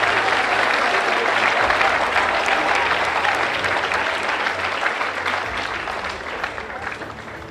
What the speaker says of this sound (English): Please join me in a round of applause for the athletes standing at this time